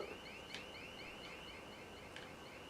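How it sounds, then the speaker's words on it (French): A repeating alarm in the zombie video game Dead Island 2 gives a steady, faint cycle of rising electronic whoops, with a few brief sharper clicks over a quiet game backdrop. "Bon, une alarme, ça veut dire que ça va attirer des zombies"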